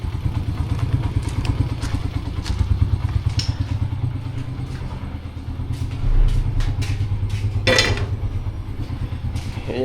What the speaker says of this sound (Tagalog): Umaandar pala yung motor natin, iniwan natin.